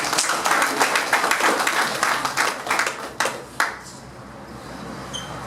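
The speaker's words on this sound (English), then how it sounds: "Can we give a round of applause?" Audience applause at a prisoner release event in Gambia, a dense patter of many hands clapping that thins into a few scattered claps and then fades to quiet room tone.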